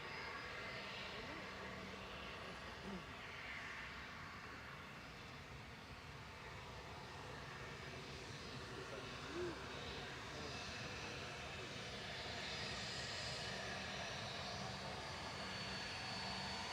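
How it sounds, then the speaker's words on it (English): A Loganair Embraer ERJ 145 regional jet taxis at Manchester Airport, its engines a steady, distant whine under broad outdoor rumble, with someone talking over it. "Logan Air ERJ 145 taxiing down Tango, doing the Tango."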